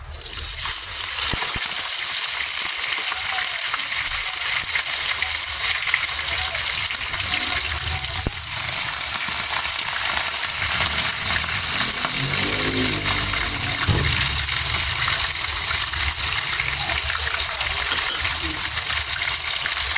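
Pork for tokwa't baboy sizzles and crackles steadily in a pan, a continuous frying hiss with occasional clinks, close and fairly loud throughout without talk.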